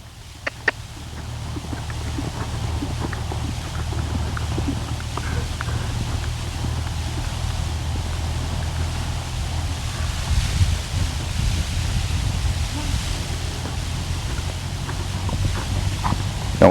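A horse cantering during dressage training, a muffled rhythmic thud of hooves under steady wind-like background noise, fairly distant, with occasional faint voices.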